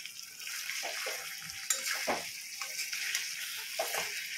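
Chicken pieces frying in a kadai for kadai chicken, a steady close sizzle with occasional stirring scrapes.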